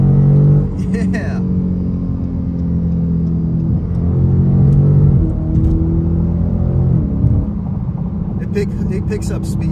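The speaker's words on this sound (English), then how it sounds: "It pulls hard, and it put the power down in second gear." A 2022 Dodge Challenger R/T Scat Pack pulling hard through second and third gear, its deep engine roaring steadily from inside the cabin with a shift near the middle, while a voice talks over it.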